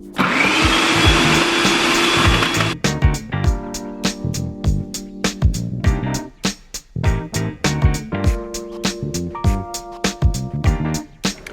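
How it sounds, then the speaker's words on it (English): A food processor shreds Brussels sprouts, onion and broccoli in bulk: a loud, steady motor whir for about three seconds, then a run of choppy bursts and rattling knocks as the vegetables are pulsed, with no talking. "Throw it all in the food processor, have it in bulk, have it nice and shredded up so you can cook it quickly."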